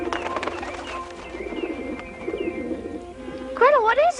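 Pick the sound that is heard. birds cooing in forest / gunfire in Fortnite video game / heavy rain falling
birds cooing in forest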